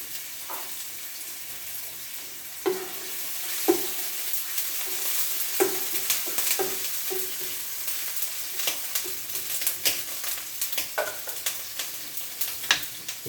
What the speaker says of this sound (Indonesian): menggoreng bawang merah bawang putihnya sekalian ya, sekaligus untuk 2 loyang